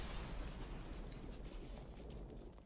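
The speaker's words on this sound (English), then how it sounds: "Being caught in the explosion." An explosion in the party game Trivia Murder Party 2 gives a rumbling, crackling burst with shattering debris that fades gradually over nearly three seconds.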